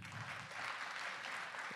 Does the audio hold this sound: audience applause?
yes